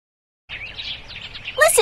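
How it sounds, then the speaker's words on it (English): Sparrows chirp and twitter in a quick, bright run of small calls after a short silence, close and fairly clear, with a louder burst of notes at the end. "Are those sparrows? Yes, they are."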